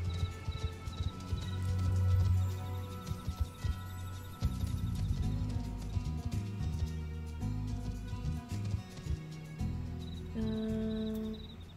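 Hooves clop steadily as a mount is ridden in Final Fantasy XIV, a soft, even rhythm of hoofbeats set under layered game music with tonal chimes.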